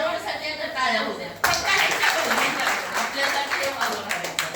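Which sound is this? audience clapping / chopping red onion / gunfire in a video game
audience clapping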